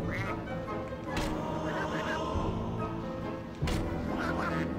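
Ducks quack in a shooting minigame in Medievil Resurrection on PSP: short nasal quacks and sharp hit sounds over busy game music, with someone talking over them.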